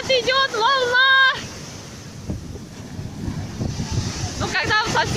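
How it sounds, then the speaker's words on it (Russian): Sea waves wash in at the beach with a broad, rushing surf sound and wind buffeting the microphone, while people talk and call out over it at the start and end. "Идет волна."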